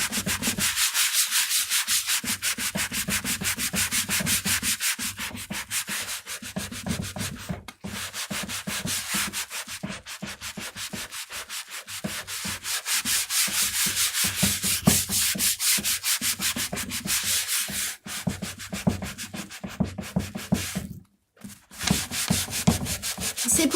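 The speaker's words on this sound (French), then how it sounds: "excusez-moi pour le bruit de la table qui est un peu bancale." A slightly wobbly table keeps knocking and rubbing while clay is worked by hand on it, giving a continuous close scraping texture with irregular small knocks throughout.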